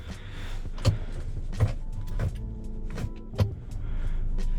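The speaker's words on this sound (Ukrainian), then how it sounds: "Так, трішечки відрегулюємо собі сидіння." A power seat in a 2019 Ford Escape 1.5 EcoBoost AWD whirs in short motor bursts inside the cabin, with soft clicks and thumps between adjustments and a low hum underneath.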